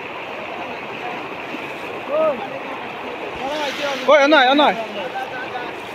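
Fast floodwater current during the 2025 Hailakandi flood, a steady broadband rush of water running throughout beneath someone talking in the foreground.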